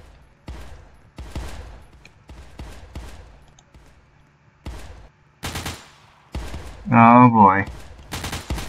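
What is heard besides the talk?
burst-fire gunfire from the video game Crossroads Warfare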